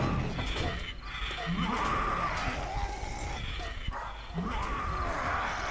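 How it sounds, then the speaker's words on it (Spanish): Feral dogs in the video game 7 Days to Die bark and yelp over a dense, loud game soundscape, with sharp repeated calls rising out of the steady background noise. "Los perros son los puñeteros ferales"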